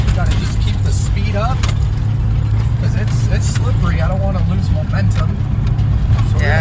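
First-generation Toyota 4Runner engine pulling in second gear at about 3,500 RPM off-road, a loud steady low drone throughout with people talking over it.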